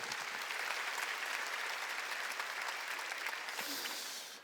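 Church congregation at a Sunday worship service clapping together in sustained, dense applause, a little distant in the sanctuary, holding steady before fading at the end.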